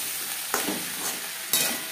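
Boiled potatoes fry in a pan over high to medium flame with a steady hissing sizzle, broken by two sharp scraping stirs from a spoon. No voices are heard.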